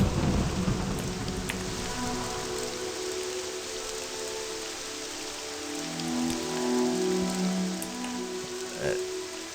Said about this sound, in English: Rain is literally the worst of all weathers.